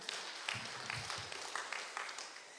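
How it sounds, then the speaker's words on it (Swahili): An audience applauding a guest at a gathering in Kenya, a scattered patter of claps from a crowd with a few sharper hand strikes standing out, fairly faint and steady. "Tumpigie makofi."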